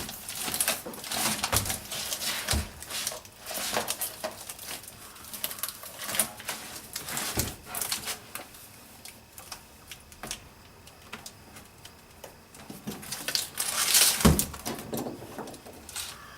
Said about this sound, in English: You just basically measure it to fit, cut it, and press it down.